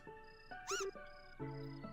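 A single high, rising-and-falling cat meow in a video game cuts through a steady synthetic music bed, short and clear.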